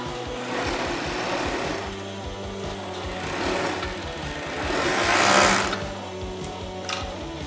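A sewing machine stitches along the edges of sweatshirt fabric, its motor whirring steadily with rapid needle clatter that swells and eases in speed, running alone without talk.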